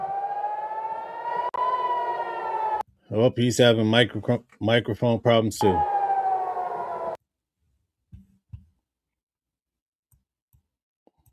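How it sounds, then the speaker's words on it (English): Air raid sirens wail over Tel Aviv in a sustained, steady tone heard from a distance. Nearby voices talk over the middle stretch before the siren returns and then cuts out, leaving near silence. "Those are the air raid sirens."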